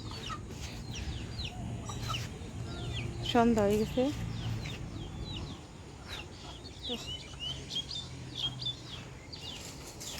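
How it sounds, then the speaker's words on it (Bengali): Chickens on a village rooftop in the evening, with a few close clucks and a brief burst of excited squawking midway, while a person talks throughout. "এই মুরগি ছাদের উপরে এসে রয়েছে"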